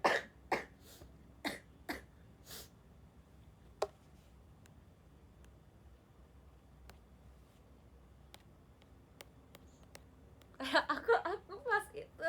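A few sharp coughs early on, then quiet, followed by a louder burst of coughing and throat noise near the end.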